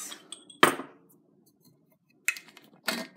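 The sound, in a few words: cups for watercolor painting being set down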